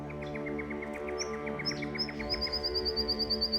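Birds chirp in a macadamia orchard in the early morning, with a quick repeating series of bright tweets and a higher rapid trill later, fairly close, over a steady low hum.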